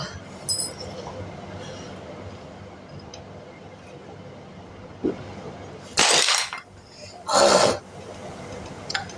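Glass shatters in two loud, sharp crashing bursts about a second apart, following a quieter stretch with low background noise and a few faint knocks.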